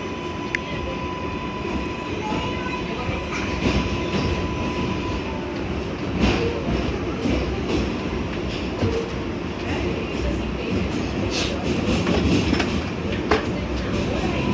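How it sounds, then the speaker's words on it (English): A Bronx-bound NYC subway R142A 4 train rides the tracks, a steady loud rumble with rhythmic clatter of wheels over rail joints and occasional squeals, heard from inside the car. "This is a Bronx-bound 4 train."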